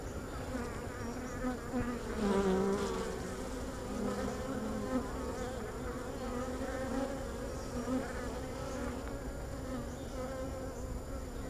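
Honeybees buzz steadily around an open hive during an inspection, a dense, continuous drone near the listener with a few closer bees passing by, and no one speaks.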